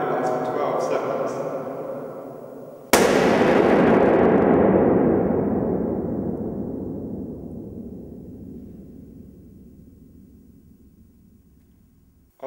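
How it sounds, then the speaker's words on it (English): A balloon bursts with a sharp, loud bang inside a reverberation chamber at a measurement lab, and the echo rings on and slowly fades over about nine seconds; quiet talk comes before the pop. "When I pop this balloon, the bang will last for 12 seconds."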